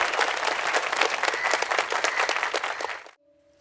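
An audience at a village assembly breaks into applause, dense close clapping for about three seconds before stopping abruptly.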